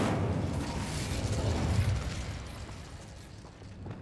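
A fire spell bursts into a roaring whoosh of flame in Hogwarts Legacy, loud and close at first, then fading into a softer crackling rumble.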